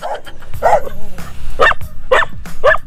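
Dog barks sound in a series of short, loud, close-range bursts at a rural property where free-range chicken nets are delivered, with no speech over them.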